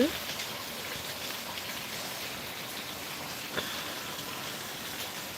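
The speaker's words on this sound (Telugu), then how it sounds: "ఉన్నట్టుండి వర్షం పడుతుంది" Steady rain falling in Srisailam, a dense even hiss of drops on surfaces that holds at one level throughout, with a single faint thump partway through and no voices.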